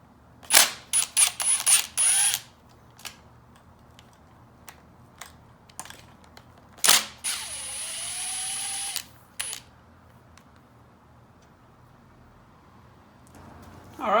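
On a Yamaha YFZ450 engine, a ratchet loosens the cylinder head cover bolts in quick bursts of sharp clicking, with a longer steady whirring run midway and scattered single clicks in a quiet workshop.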